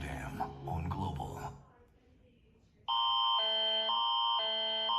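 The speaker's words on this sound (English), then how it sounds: "Canada's is very similar to the US's, but the alarm sound is quite intense" Canadian emergency alert system alarm: after a voice speaks briefly and then a short lull, a loud, harsh multi-tone electronic alarm blares in steady repeating pulses.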